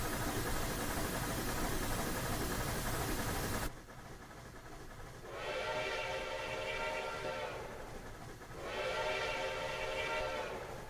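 Whistle of a Rio Grande Southern steam locomotive in Train Simulator Classic, two long steady blasts separated by a short pause, following a loud burst of broadband rumble that cuts off abruptly.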